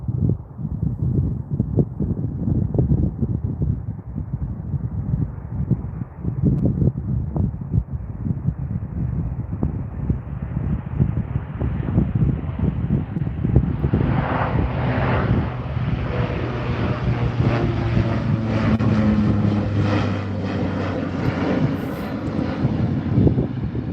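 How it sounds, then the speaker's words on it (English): A WestJet Encore Dash 8 turboprop rolls down Calgary Airport runway 35R for takeoff, a steady loud engine roar that builds and brightens as the aircraft accelerates, heard outdoors with a rumbling wind-like wash and no talking. "we've got a WestJet Encore Dash 8 just rolling down the runway now"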